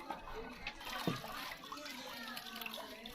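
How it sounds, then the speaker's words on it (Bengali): Ingredients for lentil batter being washed in a strainer basket, with water splashing and draining in a soft, continuous trickle and slosh, close by, while a voice speaks quietly in the background. "আমি একটা ছাকনা ঝুড়ির সাহায্যে এটাকে ধুয়ে ভালো করে জল ঝরিয়ে নিচ্ছি।"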